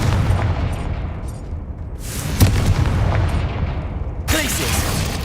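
Confringo fire spells explode in Hogwarts Legacy with loud, rumbling booms over a dense low roar. One sharper blast lands midway and another burst comes near the end.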